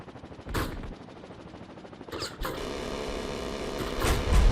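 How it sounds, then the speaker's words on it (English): Gunfire in the Heliborne helicopter combat video game on Xbox, with a few sharp single shots followed by sustained rapid automatic fire building louder toward the end over a steady engine drone. "What is shooting at me from over here? One of those vehicles?"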